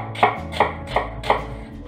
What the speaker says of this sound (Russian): И теперь нужно мне ее нарезать мелким-мелким кубиком.